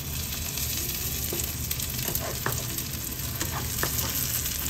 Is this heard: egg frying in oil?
yes